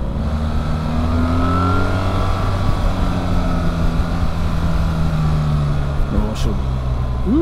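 A BMW R 1300 GS motorcycle engine revs and pulls while riding, a steady loud drone rising and falling in pitch under wind noise, with a rider's voice briefly heard near the end.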